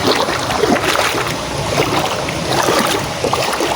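River water splashes and babbles steadily in a close, continuous wash with no voices.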